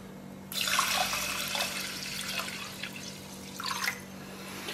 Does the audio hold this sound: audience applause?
no